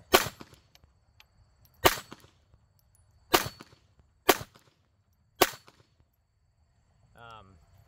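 Five sharp, loud cracks from a Ruger LCP II .22LR pistol fired outdoors, spaced about a second apart, followed by a brief faint voice at the end.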